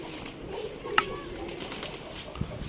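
Pigeons in a rooftop loft setting coo softly, with a brief sharper call near the middle over steady outdoor background noise, some young birds among them.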